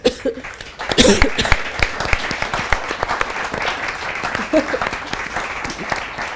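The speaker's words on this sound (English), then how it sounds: "give a big applause to our panel" An audience applauds a panel discussion on the European Parliament: a burst of clapping swells early, then carries on steadily, with faint chuckles and murmurs mixed in.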